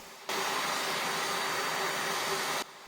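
A Dyson Ball Upright Animal Complete vacuum cleaner starts abruptly and runs at a loud, steady, close roar with a constant whine, then cuts off sharply near the end.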